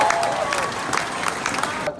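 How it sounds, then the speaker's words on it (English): Crowd at a peaceful Black Lives Matter march clapping, a loose burst of applause with some cheering, outdoors and moderately close, tapering off near the end. "So give all yourselves a round of applause again."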